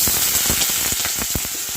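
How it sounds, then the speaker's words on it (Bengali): Small-cut potato pieces fry in hot oil, a loud close crackling sizzle with rapid popping bursts throughout. "প্রথমে আলুটা তেলের মধ্যে ভেজে নেব।"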